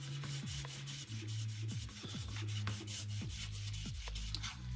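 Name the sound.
sanding resin part with sanding block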